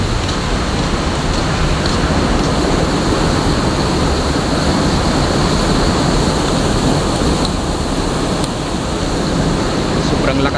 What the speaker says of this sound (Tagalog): Sobrang lakas ng alon mga bay.